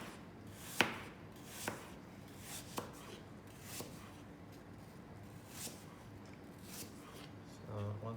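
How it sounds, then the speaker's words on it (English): A knife slices an apple into thin pieces on a board for apple cinnamon samosas, giving a handful of sharp, separate cutting taps spaced about a second apart, fairly close and quiet, with no talk over them. "you're going to cut up the apple into really thin slices"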